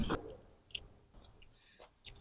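Gummy eye candy being chewed close up in an abandoned theatre, a few soft wet bites spaced out over a couple of seconds, faint and alone with no talk.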